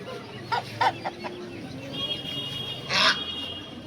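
Chickens and a rooster at a cheap village market in the Sundarbans give a few short clucks and calls, with a louder squawk near the end, over a steady background hum of the market crowd.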